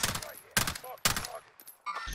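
Gunfire bursts in the Warzone battle royale game: two sharp, loud shots about half a second apart, each ringing out briefly, then a third blast near the end amid faint game background noise.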